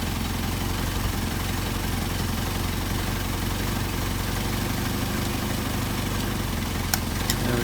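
A Mercedes 190SL engine fitted with Solex 44PHH carburetors idles steadily at high idle with a rough, even rumble. The sound runs close and continuous, with a faint brief click near the end.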